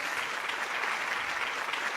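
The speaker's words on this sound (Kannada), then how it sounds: "ಒಂದು ಸಲ 7 ಜನರಿಗೆ ಜೋರಾದ ಚಪ್ಪಾಳೆ" Loud applause from a studio audience at a dance show grand finale, celebrating seven finalists, a dense steady wash of clapping that holds throughout without letting up.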